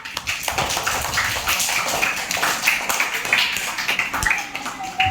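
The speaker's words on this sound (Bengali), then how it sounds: "একটা হাততালি হয়ে যাক" A small group claps together in a school setting, a short burst of scattered, uneven hand claps with voices talking over them.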